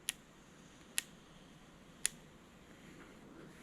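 Three sharp, faint clicks from adjusting an SVBONY SV46 spotting scope, spaced about a second apart over a quiet background hiss.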